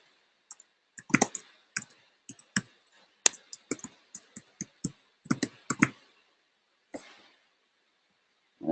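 Sharp computer mouse clicks, a few isolated and others in quick bunches, close and fairly quiet, with no talk over them.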